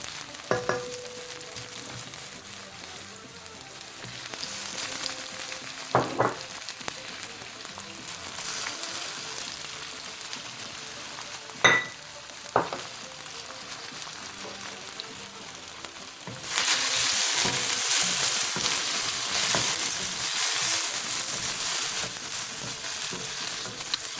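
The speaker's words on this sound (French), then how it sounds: "on va commencer à faire revenir l'ail et l'oignon." Garlic and onion sizzle steadily in a pan for a meatless chili, with a few sharp clicks of the pan or utensil along the way. The frying swells louder and brighter near the end. No one speaks.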